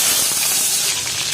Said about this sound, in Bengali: এবার আমি ডিমগুলোকে লাল লাল করে ভেজে নেব।